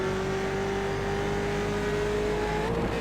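Race car engine, a 6-cylinder, heard from a dashcam at Mid-Ohio: a loud, steady droning hum held at near-constant pitch, rising slightly at the end, with no talk.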